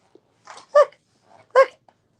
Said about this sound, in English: Oh, I was so excited to hear his bark.